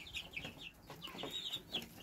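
Several chickens cluck in short, repeated calls at close range in a poultry building, with a grey rooster among the flock and no speech over them.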